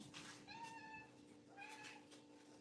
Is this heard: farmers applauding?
no